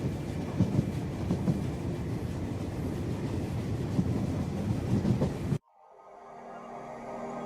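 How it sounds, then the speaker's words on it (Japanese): A train runs on rails with a loud, continuous rumbling roar and faint rhythmic clatter that ends suddenly, followed by a quieter, fading tail of sound. "胸に抱く希望を乗せて列車は星の海を渡って行きます"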